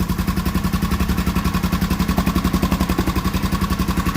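A Honda XL 500R motorcycle engine runs at a steady idle, close by, with a rapid, even chugging beat and no talking.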